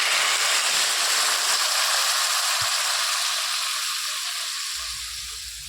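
Water poured into a pan of vegetarian mixed vegetables frying in oil, setting off a loud, hissing sizzle that stays steady and slowly fades over a few seconds, with a soft knock partway through.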